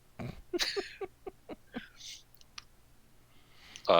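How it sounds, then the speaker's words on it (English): Typing on a computer keyboard, a quick run of sharp separate key clicks, near and fairly quiet, that trails off into silence and then a brief louder noise at the end. "that's me typing random nonsense"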